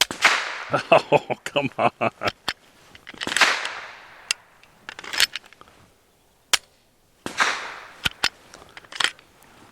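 An Adler Arms AD 9 pistol fires Winchester Defense 147 grain rounds, with a quick string of sharp shots early, then scattered single reports with pauses, loud and close, and a brief spoken remark in between.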